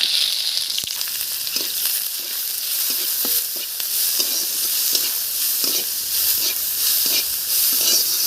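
Chopped onions and panch phoron frying in hot oil, a loud continuous hissing sizzle with occasional soft stirring clicks, close up and without speech.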